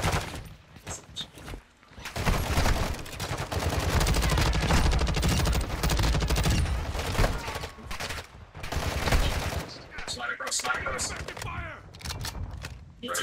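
Gunfire in the Warzone battle royale game: bursts of automatic fire and scattered shots rattle through a busy fight, loud in the middle stretch and sparser later, with voices talking over it.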